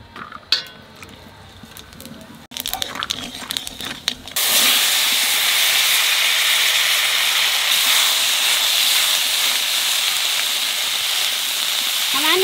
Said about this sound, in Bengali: খালি তেলের মধ্যে এই যে অল্প কটা জিরে দেবো।